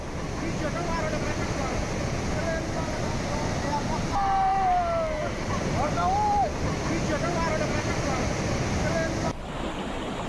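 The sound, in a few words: rushing floodwater torrent in a stream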